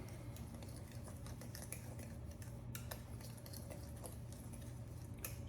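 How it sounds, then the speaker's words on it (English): Banana bread ingredients get mixed together in a bowl, a spoon or utensil clinking and scraping quietly against the sides in quick, irregular taps over a soft steady background hum. "so now we'll just mix that together"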